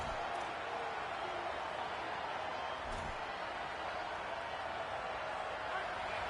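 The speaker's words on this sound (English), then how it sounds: "This crowd trying to make life miserable for this offense." Stadium crowd at a college football game, USF at UTSA, a steady broad roar that holds constant throughout with a few faint thumps in it.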